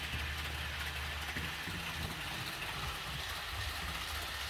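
A model train with an ESU Rheingold coach and an SNCF TGV runs around a layout, giving a steady low rumble of wheels on track with a constant hiss, heard close and continuous throughout with no talking.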